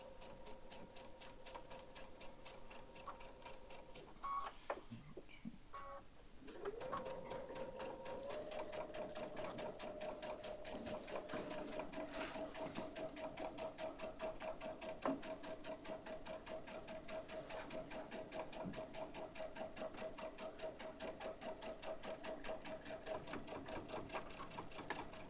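A sewing machine top stitching a tote seam runs in a fast, even mechanical chatter. It pauses briefly near the start, then continues steadily at a quiet level.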